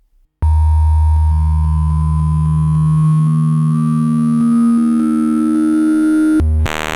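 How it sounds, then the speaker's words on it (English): A loud sustained tone from a vintage PPG Wave or Groove Synthesis 3rd Wave synthesizer, its timbre and pitch gradually morphing and sweeping upward through a wavetable over several seconds, then cutting off abruptly before a brief different burst. "we'll just modulate all the way through that wavetable just to hear if they sound in any way different."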